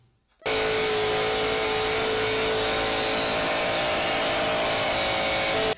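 Engine of a homemade plane built from scrap with dual propellers starts abruptly and then holds a loud, steady buzzing drone with a constant whine, close by and without talk.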